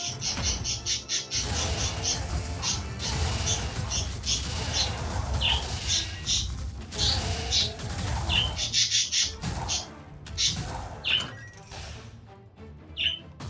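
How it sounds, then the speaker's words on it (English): Birds chirp and tweet in quick repeated bursts, close and lively, over a constant low background hum. "Hi, birds."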